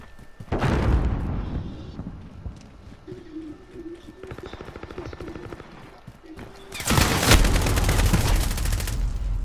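Repeated loud shotgun blasts in Call of Duty Modern Warfare hardcore mode, a booming shot early followed by a dense burst of rapid firing and impacts near the end, with game noise between.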